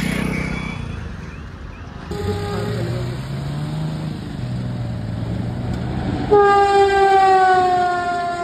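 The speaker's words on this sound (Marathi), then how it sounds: "ट्रेन मला वाटतं पुढून येणार आहे." A train approaching a closed railway crossing sounds a loud, sustained multi-tone horn near the end, over steady rumbling and low engine drone.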